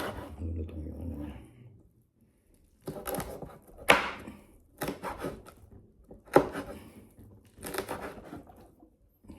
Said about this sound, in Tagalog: Tinatadtad ito mga kapatid.